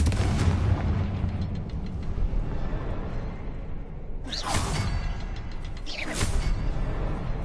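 In Hogwarts Legacy open-world play, a Confringo spell lets off two sharp whooshing blasts a couple of seconds apart, loud over a steady rumbling background.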